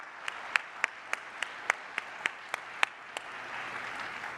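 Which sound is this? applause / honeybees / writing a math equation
applause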